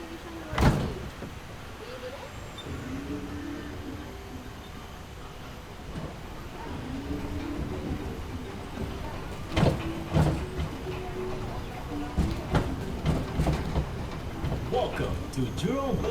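Jurong Bird Park tram on the move, with a rumbling ride broken by occasional sharp knocks and rattles, some heard close and loud, under a continuous background of engine and road noise.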